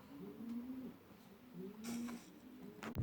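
Female pigeons kept in an allotment loft coo softly and close by, with low, rolling repeated calls and a faint rustle near the end.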